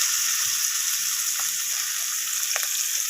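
Rohu fish oil seasoned with salt and turmeric fries in a pan with a loud, steady, close sizzle. Occasional faint scrapes of a spatula stirring come through underneath, and no one speaks.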